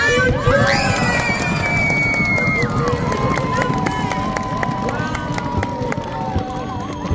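A crowd of children at Schloss Thurn screams and cheers all at once, high shrieks and shouts over stamping and clapping, loud and close, sustained throughout.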